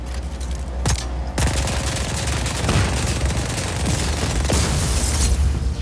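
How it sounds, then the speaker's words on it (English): Rapid gunfire rings out in Just Cause 4 as a generator is shot, a dense sustained volley with sharp bursts and booms layered across the whole stretch, loud and close. "And now I guess I shoot it in the guts"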